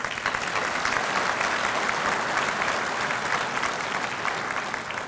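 Sustained applause from a large banquet audience at a 50th anniversary dinner for a cattle-breeding cooperative, dense and even clapping filling the room at steady loudness for the whole stretch, fading slightly at the end.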